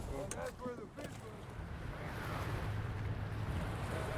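Water surging over the side of a small boat weighed down by three people: a broad, continuous rushing wash, close and loud, with brief voices and wind buffeting at the start.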